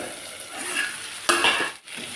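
Mixed vegetables with rock salt stirred and sautéing in hot oil for a South Indian kadamba poriyal, a steady close sizzle with scraping stir strokes and a brief louder clatter midway, no voices.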